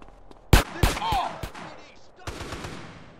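Gunfire in GTA San Andreas: several sharp, loud shots crack in quick succession, then a second burst follows after a short pause, with a voice briefly heard between.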